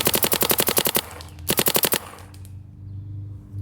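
A paintball marker fed by a Virtue Spire 4 hopper fires two rapid strings of shots, a longer burst then a shorter one after a brief pause, loud and close, followed by a low mechanical hum.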